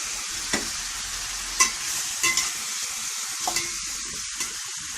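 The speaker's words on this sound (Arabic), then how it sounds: "نبتدي بقى نقلب ونحمرها خالص، مش تحمير تشويح" Meat pieces stirred and sautéed in hot ghee for an onion-and-potato meat casserole give a steady close sizzle, broken by a handful of soft scraping stirs, with no talking.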